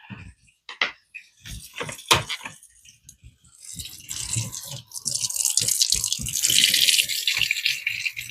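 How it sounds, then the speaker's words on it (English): Baking utensils clink and knock in a sink, then tap water comes on and splashes over them in a rising, steady rinse, with scattered drips and clatters throughout. "I'm going to rinse these off because I'm sure I'm going to need them for the frosting later."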